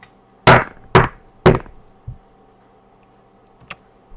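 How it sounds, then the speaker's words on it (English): A loud banging knock at a door as a story sound effect: three heavy, evenly spaced thuds, a softer fourth, then a faint tap after a pause. "Suddenly, there was a loud banging at the door."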